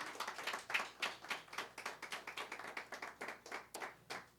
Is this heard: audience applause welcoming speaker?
yes